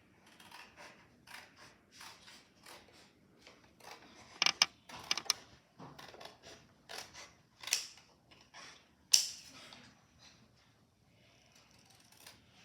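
Scissors cut through fabric facing for a sleeveless garment's neck and armhole, giving a string of crisp, close snips and creaks with brief pauses between them, loudest midway through, with no talking.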